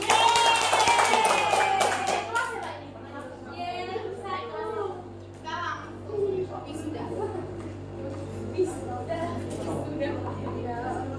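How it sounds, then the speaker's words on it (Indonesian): A math class claps briefly at the start, then an adult voice talks over a steady background hum, with light taps and murmurs. "tepuk tangan sekali lagi"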